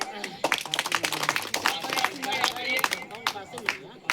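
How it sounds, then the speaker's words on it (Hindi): Scattered hand clapping at an outdoor village gathering, a crowd applauding the program's organizer, with uneven, loose claps mixed with voices and talk throughout. "इनके लिए ताली बजाइए।"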